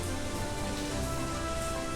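Heavy rain falls steadily as a dense, even wash of noise with no breaks, loud and close, with no talking over it.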